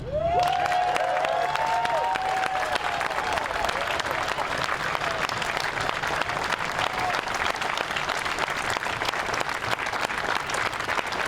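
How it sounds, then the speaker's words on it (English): Sustained audience applause after a political speech, a dense, even roar of clapping from a large crowd lasting several seconds, with scattered cheers and a voice briefly heard at the start. "Big round of applause there."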